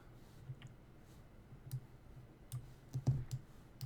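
A few faint, sparse computer mouse clicks while working in Autodesk Inventor CAD software, scattered singly over a quiet room background.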